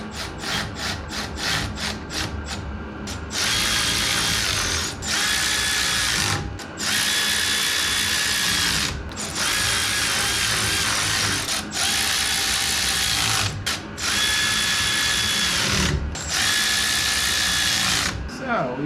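Power tool bursts tightening bolts on a Toyota Land Cruiser FJ40 front knuckle in a garage: rapid ratcheting clicks give way to long loud whirring runs with short pauses between them.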